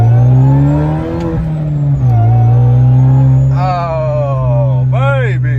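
A modified Japanese car's engine roars under hard acceleration with a rising supercharger whine, pitch climbing through several gear pulls, loud and close.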